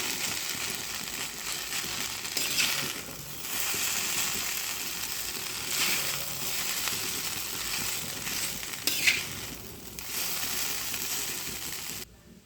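Spices and coriander powder being mixed into noodles in a hot pan, a continuous soft frying sizzle with intermittent stirring scrapes and brief clinks, fairly close and steady throughout.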